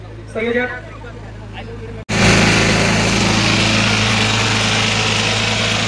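A tractor engine roars at a reverse tractor race held at a village fair, as a loud, steady, droning rumble that kicks in abruptly and holds close; a voice speaks briefly just before it starts.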